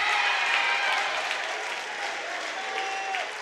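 A college basketball crowd at an SNU men's game at Oklahoma Baptist roars and claps steadily during a tight finish, a dense, sustained wash of applause and cheering filling the arena.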